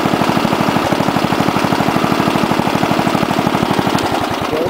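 A Wheel Horse A-800 Ranger tractor engine idles steadily up close, its rapid, even chugging pulses filling the air loud and alone without pause.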